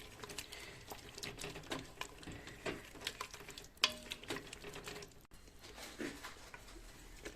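A spoon scrapes and stirs a red wine sauce with tomato in a pan, with soft irregular clinks and a faint sizzle, fairly quiet and close, no talking.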